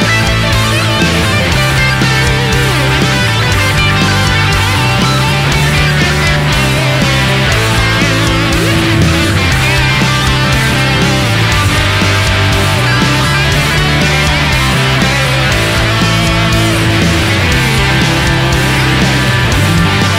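SG electric guitar played through a modded Orange TH30 amp profile by ReampZone on a Kemper, with a light touch of delay, runs loud and continuous over a backing track with steady bass and drums throughout.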